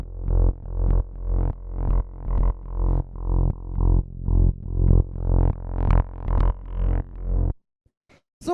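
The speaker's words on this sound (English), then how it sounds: "this is the bass on its own" Evolving synth bassline made of two grouped synth layers with processing, pulsing in steady rhythmic stabs for about seven seconds before cutting to near silence with a few faint clicks at the end.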